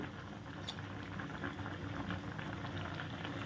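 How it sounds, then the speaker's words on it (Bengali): Tomatoes for a homemade sweet, spicy and sour tomato jelly bubble as they boil in a pot, making a soft, continuous low bubbling and popping, with no talk. "এটা সুন্দর টকবক করে ফুটে উঠেছে টমেটো"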